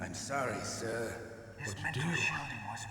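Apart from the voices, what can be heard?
No distinct noise like a dog, phone or traffic.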